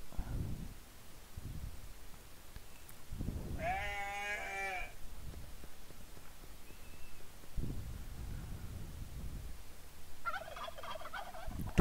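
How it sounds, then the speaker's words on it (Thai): A farm turkey gives a short burbling gobble in the middle, set apart by soft thumps and low rustling, with a faint higher animal call near the end. "turkey turkey เนาะแปลว่าไก่งวงนะ"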